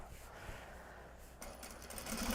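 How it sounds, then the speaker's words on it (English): A sewing machine stitching a Japanese fabric tote bag, a steady close mechanical whir running continuously with no talk, growing slightly louder near the end. "The last of it going through the sewing machine."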